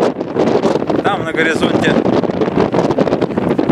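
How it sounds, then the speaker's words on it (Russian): Strong gusting wind during a dust storm over the city of Tava, heard outdoors near a hotel, buffets the microphone with a heavy continuous roar while someone speaks through it. "все мрачно, потому что ветер очень сильный и пыль, практически пыльная буря"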